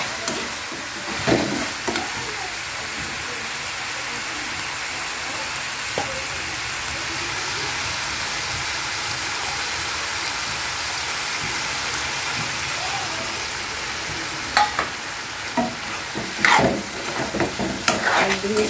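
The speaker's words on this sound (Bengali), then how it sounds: "তাই এটাকে দিয়ে আমি ভালো করে আবার কিছুক্ষণ নেড়ে দেবো।" Ginger-garlic paste with cumin and coriander powder frying in a pan while being stirred for begmati chicken, a steady close sizzle throughout with occasional scraping clinks of the spoon near the end.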